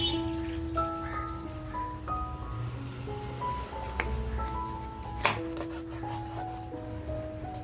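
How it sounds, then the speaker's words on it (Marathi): A freshly sharpened knife chops rawas fish into pieces on a board, giving a series of close, soft thuds and cuts in an uneven rhythm while faint background music plays. "बघा, धार केल्यानंतर लगेचच कसं व्यवस्थित कट होते."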